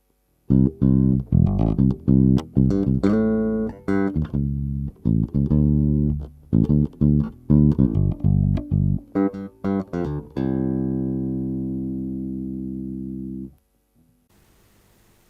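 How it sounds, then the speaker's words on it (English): Bass guitar through an Artist Guitars BP150 150-watt combo amp with the brightness switch off, playing a busy line of plucked notes, loud and up front, finishing on a sustained note that rings for a few seconds before cutting off. "Here's how it sounds with the brightness turned off."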